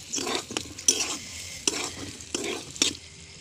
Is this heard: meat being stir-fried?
yes